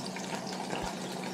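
Fish sizzles and spits in hot oil during an outdoor catch-and-cook, a steady broadband crackle with one brief low pop near the end, close and fairly quiet.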